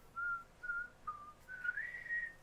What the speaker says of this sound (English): I can't whistle. I can, but I suck.